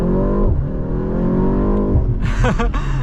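A BMW M135 hot hatch on Cup 2 tyres accelerates hard from near standstill, its engine rising in a loud, close, steady revving pitch, then a brief shift-like break and renewed roar with tyre noise near the end.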